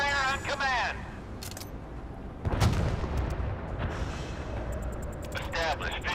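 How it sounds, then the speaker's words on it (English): Warship guns boom in the naval video game Force of Warships, a loud blast at mid-clip with a rumbling tail, among clicks and short synthetic game voice cues. "Fire on command."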